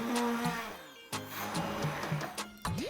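A blender whirs steadily in short pulses, the motor pitch shifting as it churns a thick cream cheese mixture with melted gelatin, with clattering bumps between bursts.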